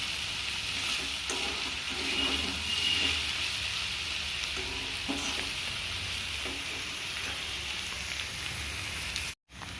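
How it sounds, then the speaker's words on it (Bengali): Potato and bottle gourd peels frying in a pan with poppy seeds, a soft continuous sizzle broken by scraping spatula strokes as the mixture is stirred, with no voices. "খুন্তি দিয়ে ভালো করে পোস্তগুলোকে মিশিয়ে দেব আলু এবং লাউয়ের খোসার মধ্যে"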